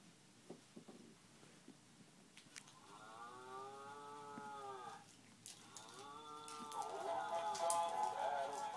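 A toy cow playing a mooing sound, two long drawn-out electronic moos, the second blending into tinkly music, fairly faint and close in a quiet room with small tapping noises around.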